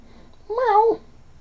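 A single short cat meow rises and falls over about half a second, close and clear against a quiet indoor background.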